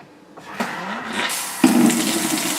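A Delta Ashton Touch2O kitchen faucet is switched on and water gushes steadily into a sink, rising from a soft hiss to a strong, continuous rush nearby.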